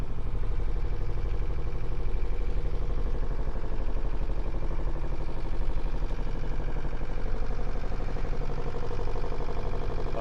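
A Volvo marine engine on a boat out on choppy sea runs steadily, a continuous low mechanical drone with a faint rapid clatter, close and unbroken throughout.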